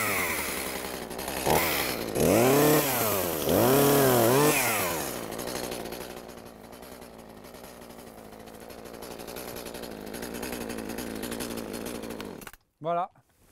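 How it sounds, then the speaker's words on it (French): A petrol chainsaw cutting a wild cherry tree: a loud engine revving up and down in rising and falling surges, then settling to a steadier drone before stopping. Voices are faintly audible in the background. "On a la tronçonneuse là, la thermique?"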